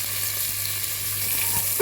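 Ginger garlic paste frying in oil in a pan for soya chunks pulao, a steady, even close sizzle over a low hum, with no voices.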